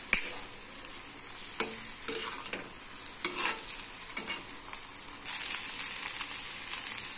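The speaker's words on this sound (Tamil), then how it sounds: "பாருங்க நல்லா ஃப்ரை ஆயிடுச்சு" Egg and goat brain fry in a pan with a steady close sizzle, while a utensil stirs and scrapes through them in several distinct strokes; the sizzle swells louder toward the end.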